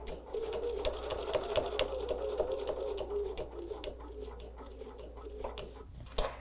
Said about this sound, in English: when I come down this lane, I'm maintaining that same distance from the needle to the edge of my presser foot.